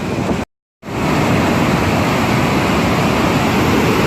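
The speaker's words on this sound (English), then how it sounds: "This is water coming down the spill gates." Water pouring down the spill gates of Fontana Dam makes a loud, continuous, broadband roar that stays close and steady, broken only by a brief cut near the start.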